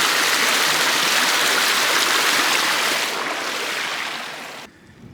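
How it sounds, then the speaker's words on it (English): Waterfall and stream on a hiking trail, a loud, steady rush of clear running water that fills the whole clip and eases off slightly toward the end, with no talking. "The waterfall."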